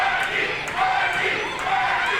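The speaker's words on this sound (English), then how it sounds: "Now, cheering for Randy Rain now." A wrestling crowd cheers for Randy Rain at a professional wrestling show, a steady roar of voices with a commentator talking over it.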